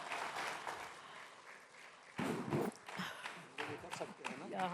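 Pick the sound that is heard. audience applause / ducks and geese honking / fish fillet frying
audience applause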